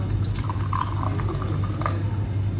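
Tea poured into a glass during a home breakfast, a soft continuous trickle and fill lasting a couple of seconds under steady low room hum, close and fairly quiet.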